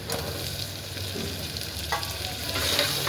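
Cloves and tomatoes fry in a pan for masale bhaat, giving a steady close sizzle with soft stirring scrapes throughout and no talking.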